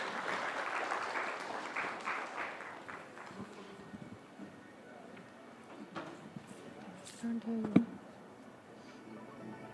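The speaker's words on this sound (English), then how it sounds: "A big round of applause, ladies and gentlemen, for Milli Majumdar, Sanjay Dutt, Vineet Rel" Conference audience applause rises in a burst of clapping under a speaker's voice, then thins and fades into scattered claps and room noise, with a few brief knocks near the end.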